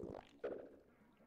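Short, low rumbling gurgles from a Pokémon in a video game's stomach, two quick bursts that fade, heard quietly with no talking over them.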